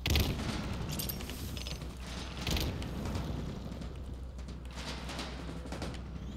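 Grenade blasts and gunfire from Halo Infinite multiplayer, a continuous dense barrage of rapid shots with heavier booms near the start and around the middle, loud and busy throughout.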